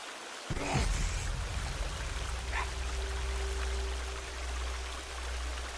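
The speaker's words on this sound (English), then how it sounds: "There's a waterfall right there." A waterfall in the video game Sons of the Forest roars in a constant, broadband rush of falling water. A low steady hum runs beneath it and a brief splash or thud comes near the start.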